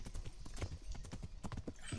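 Horse hooves clip-clopping in the video game Kingdom Come Deliverance, a quick steady run of soft hoofbeats close by, fairly quiet, with faint background voices.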